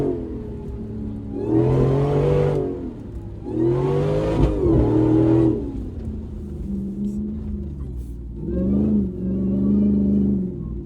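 A Jeep accelerates off-road in four-wheel drive, its engine rising in three revving surges with a rough rumble between them, heard from inside the vehicle.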